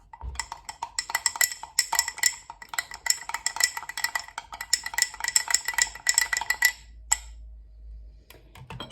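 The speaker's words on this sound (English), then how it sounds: "I'm gonna give that a little stir" A spoon stirs a flour mixture in a bowl, clinking rapidly and unevenly against the sides for about seven seconds before stopping. The sound is close and clear, with no talking.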